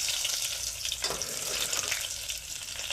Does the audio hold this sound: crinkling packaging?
no